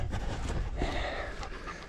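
Dogs pant heavily and steadily up close after herding beef cattle on a hillside farm, a continuous breathy rhythm with no talk over it.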